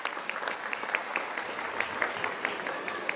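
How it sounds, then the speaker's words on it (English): Audience applause for school dancers after a devotional dance at a school annual prize distribution and cultural programme, a steady dense clapping that carries through the whole stretch at moderate level with no voices. "Let us once again give a round of applause for our dancers."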